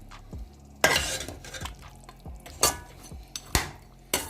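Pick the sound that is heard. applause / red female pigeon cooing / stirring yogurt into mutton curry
stirring yogurt into mutton curry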